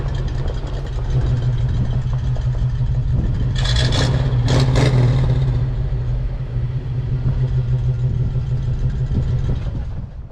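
A Jeep CJ-7, newly repaired after a cracked fuel tank, runs with a loud steady rumbling idle, briefly revving in the middle before settling back to a constant drone.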